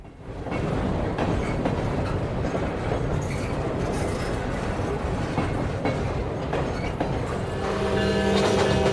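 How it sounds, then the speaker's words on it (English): An HO scale model grain train runs on a club layout, a steady close rumble of wheels and rail clatter that holds throughout and swells slightly at the end. "That grain train's coming."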